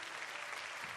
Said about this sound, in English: After we exchanged our vows, applause filled the air.